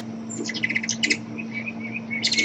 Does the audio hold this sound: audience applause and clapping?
no